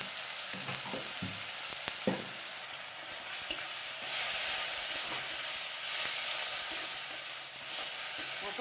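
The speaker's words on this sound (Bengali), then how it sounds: "টমেটোটা জাস্ট দুবার নাড়িয়ে নিয়ে আমি একটু দিয়ে দেবো আদা রসুনের পেস্ট" Tomato and ginger-garlic paste stirred in a frying pan, with a steady broadband sizzle and a few scraping strokes of a spatula early on, close and alone with no talk.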